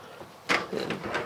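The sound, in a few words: pull-out drawer being opened in a fifth wheel RV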